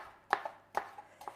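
Three sharp knife strokes on a cutting board as onion is sliced thinly for spring rolls, evenly spaced and close, alone with no talk.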